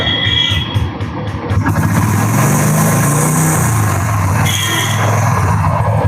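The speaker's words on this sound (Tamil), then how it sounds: "இன்ஜின் சவுண்டு அவ்வளோ சூப்பராக இருக்கு" A 2018 Royal Enfield Bullet 350 BS4 motorcycle engine runs close and loud with a steady thumping idle, swells into a rev and then settles back toward idle.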